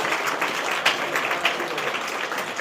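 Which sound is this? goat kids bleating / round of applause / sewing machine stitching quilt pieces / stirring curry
round of applause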